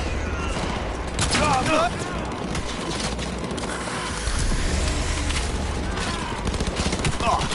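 Rapid bursts of gunfire and explosive shots from a Cyberpunk-style shooter game, loud and dense throughout, with voices talking over the combat.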